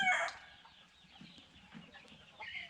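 A Belgian giant Liège fighting rooster gives a short, faint clucking call at the start, followed by soft low murmurs and quiet background noise.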